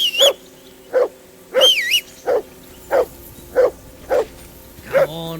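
Dog barking in the video game Kingdom Come Deliverance 2: a steady series of about nine sharp, loud barks roughly half a second apart, with a few higher yelps mixed in, ending on a longer howling note.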